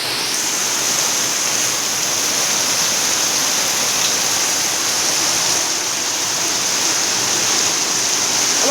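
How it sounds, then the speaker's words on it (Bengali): Heavy rain pouring down outdoors around a home with potted plants, a dense, steady roar of falling water filling the whole stretch at high level, unbroken and without voices. "ঝামঝাম করে বৃষ্টি হচ্ছে"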